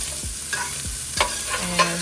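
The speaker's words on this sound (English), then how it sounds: "I'm just sauteing this, and I'm gonna add the ground beef" Ground beef sautéing in a pan for stuffed peppers, a steady close sizzle broken by several scrapes and stirs of a utensil against the pan, no talking.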